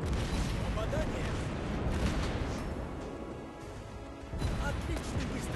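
Dense booming naval gunfire and crashing blasts roll continuously in a loud, busy game soundscape of a ranked naval battle, with a brief lull before the barrage resumes.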